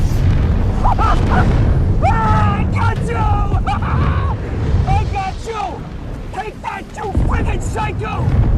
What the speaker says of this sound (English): the Penguin causes a car wreck. And there's a big explosion.